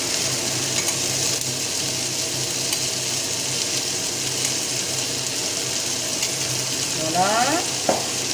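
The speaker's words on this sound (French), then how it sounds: "Et on remue." Cannelloni filling stirred in a pan with a little béchamel, a steady close sizzle with scraping spoon strokes throughout, and a short spoken word near the end.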